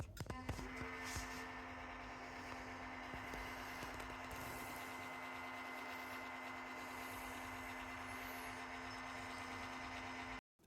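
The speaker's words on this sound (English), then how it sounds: "here's what the old pump sounds like" An old Tunze Osmolator auto top-off pump runs steadily, a constant humming motor drone with a strong tonal whine and faint rattle, unchanging for about ten seconds before cutting off abruptly.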